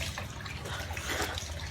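Natural spring water trickling and splashing steadily at close range, a continuous wash of flowing water with no voices.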